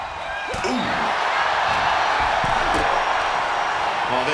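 A steady, dense roar of an arena crowd cheering in the wrestling video game WWE 2K25 fills the scene, with commentators' voices talking over it and a few faint thuds.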